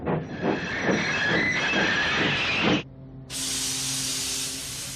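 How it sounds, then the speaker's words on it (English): Steam locomotive brakes on Thomas the Tank Engine, a loud hissing spray with rhythmic chuffing pulses that stops abruptly, followed by a high steady steam hiss over a low hum. "Thomas's brakes sound like this."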